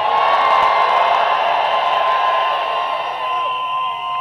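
A church congregation at an open-air crusade service shouts and cheers loudly together, a dense sustained roar of many voices that holds steady and eases slightly toward the end.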